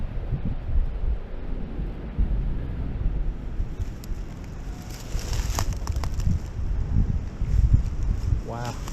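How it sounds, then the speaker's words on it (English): Wind gusting through trees along a trail at Hideout Hollow Falls, a steady low rumbling roar buffeting the microphone throughout, with a brief rising creak near the end. "I can hear the trees groaning from the wind"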